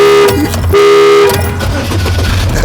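A car horn blares in two long, loud honks separated by a brief gap, close by, with engine rumble and a jangling undertone continuing after the second blast.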